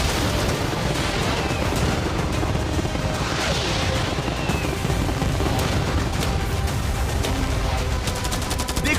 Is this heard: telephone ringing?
no